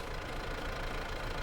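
Tractor engine running steadily at close range, a continuous dense rumble with a knocking diesel-like texture and no pauses, on a farm field being limed and seeded.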